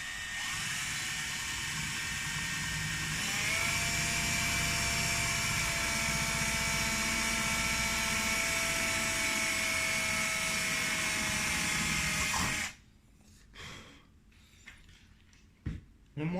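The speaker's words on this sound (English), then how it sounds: "So I'm going to get that 5/32 bit. I'm just going to drill that out now." An electric drill spins a 5/32 bit through a hole while fitting a tailwheel to a 20cc Pilot Edge 540 model plane, a loud steady whine for about twelve seconds that cuts off, followed by a few faint clicks and knocks.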